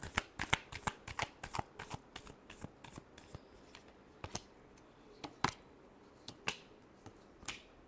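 Tarot cards are shuffled close by in a series of quick riffling snaps and slaps, fast and dense at first and then more spaced out, with no talking.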